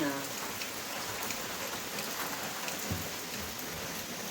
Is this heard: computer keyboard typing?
no